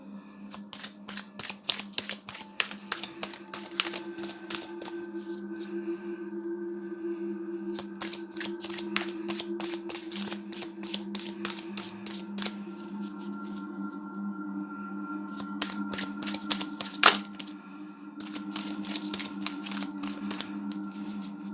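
Tarot cards shuffled by hand in rapid bursts of crisp riffling clicks, pausing between runs, then single cards slid out and drawn, close and fairly quiet over a steady low hum, with no speech.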